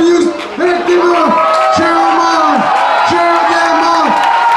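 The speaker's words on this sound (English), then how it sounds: "Cheer them on, folks, cheer them on." Crowd at a Labor Day weekend dumpling eating contest cheering and whooping loudly and steadily, close and dense, with a voice shouting over it repeatedly.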